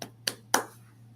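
A few sharp hand claps, three quick dry slaps close and fairly quiet, spaced roughly a quarter second apart over a low steady hum; no talk.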